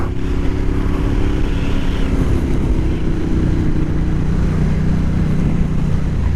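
A 2013 Ducati Diavel AMG motorcycle engine drones steadily while riding, a loud, continuous low rumble with constant wind noise and no talking.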